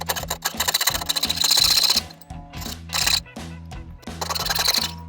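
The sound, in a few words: cutting out a notch in brass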